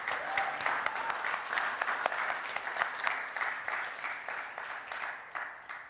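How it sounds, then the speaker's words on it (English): A church congregation gives a short round of applause at the close of an annual budget meeting, steady dense clapping across the whole stretch from a roomful of people, no voices over it. "I'd like to give one, just before we adjourn, a little round of applause for Eddie and Alan"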